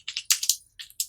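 Close, crisp keystrokes on a computer keyboard while entering a prompt into ChatGPT, quick bursts of clicks in two short runs separated by a brief pause, loud and alone.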